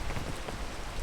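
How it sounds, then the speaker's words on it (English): Rain falling in the video game Peak, a brief, dense hiss of droplets pattering steadily on surfaces, fairly close and alone without voices. "Why does it rain whenever I'm climbing?"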